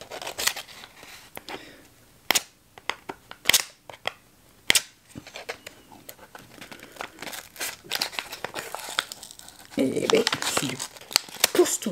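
An eyeshadow base's packaging is struggled with: sharp crinkles, tears and crisp plastic snaps come in irregular bursts, close and fairly loud, ending in a thicker rustling flurry; someone speaks between the noises.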